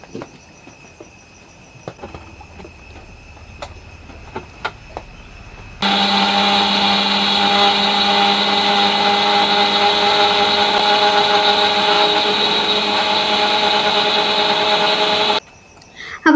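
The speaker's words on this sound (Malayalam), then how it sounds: "പച്ചരി തലേ ദിവസം തന്നെ കുതിർത്ത് വെച്ചിട്ടുണ്ടെങ്കിൽ ഇനി അത് മിക്സിയിലിട്ടിട്ട് ഒന്ന്" Mixer grinder grinding soaked raw rice in a small home kitchen: after quiet moments with faint clicks, the motor starts abruptly with a loud, steady whine and rattling hum for about ten seconds, then stops sharply.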